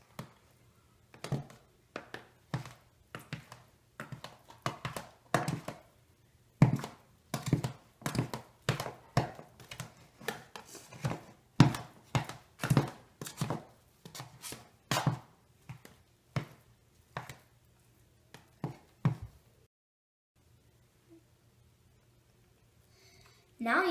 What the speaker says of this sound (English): you take the knife and you make a ton of slices